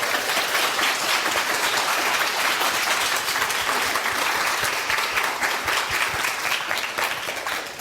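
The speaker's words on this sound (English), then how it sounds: "So I would like you to give a huge round of applause to our guest today" An audience gives sustained, loud applause to welcome historian Timothy Snyder as a guest, a dense wash of clapping that holds strong throughout and fades slightly at the very end.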